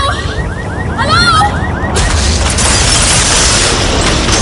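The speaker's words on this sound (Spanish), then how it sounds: "el incendio y la explosión." A film explosion after a crash and fire: a sudden loud boom bursts out midway, followed by a sustained crackling roar, with faint tonal sounds before it.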